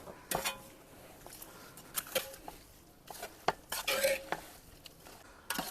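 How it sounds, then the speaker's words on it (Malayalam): A spoon scrapes and clinks against a pot while chicken biryani masala is stirred to coat the meat, giving irregular close knocks and short scraping strokes with quiet pauses between. "ഇനി നമുക്ക് ഇതിന് നന്നായി ഇളക്കിയിട്ട് കോട്ട് ചെയ്യണം"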